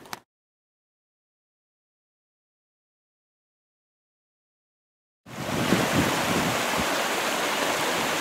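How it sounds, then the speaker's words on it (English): A mountain creek fed by snowmelt flowing into a lake, a steady hiss and rush of running water that starts abruptly after a long silence and continues evenly, close and alone. "I believe this is called Tourmaline Creek."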